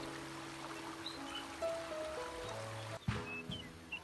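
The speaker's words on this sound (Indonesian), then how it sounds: "Airnya mengalir sebagaimana mestinya." Small river stream flowing behind a village house, a steady low water wash with faint trickling details and occasional soft bumps, continuous and moderately quiet throughout with no talking.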